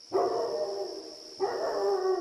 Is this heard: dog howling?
yes